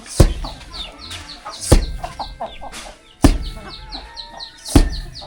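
Chickens cluck in a remote mountain village without electricity, with close, repeated clucks and a few sharp louder calls spaced across the clip.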